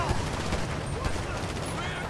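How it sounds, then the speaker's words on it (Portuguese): Gunfire aimed at the player in GTA 5 during a zombie apocalypse escape, a dense burst of shots and rattling under constant background noise, with faint speech present. "estão atirando na gente"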